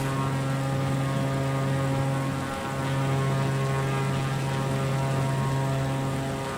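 A propeller airplane's engine drones steadily and loudly at takeoff power in Microsoft Flight Simulator 2020, a constant buzzing hum with only a slight dip partway through.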